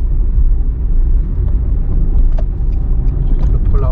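Heavy, continuous low road rumble from passing cars on a road near Dhekelia, Cyprus, loud and close, with a steady roar and no clear separate passes.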